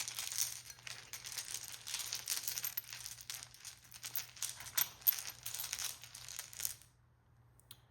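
Soft crinkling and riffling of tarot cards being shuffled, a quiet, continuous close-up rustle with small flicks that stops abruptly near the end.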